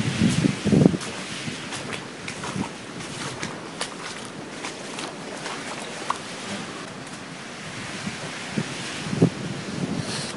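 Hurricane Sandy's 2012 storm surge on Long Island, floodwater over a deck near boats, heard as a steady roar of wind and churning water with gusts buffeting the microphone and a few knocks, no voices.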